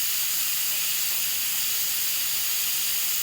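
Pressure cooker releasing steam as a constant, loud, bright hiss that runs unbroken from start to end, with no other sounds.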